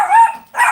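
A small dog gives two quick, loud, high-pitched barks up close, separated by a short gap.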